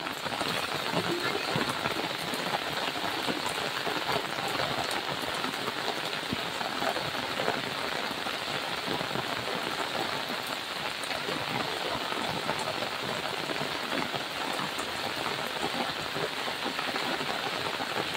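Heavy rain falls steadily across a botanical garden, a thick unbroken wash of drops spattering on foliage and surfaces, loud and even throughout with no voices rising above it.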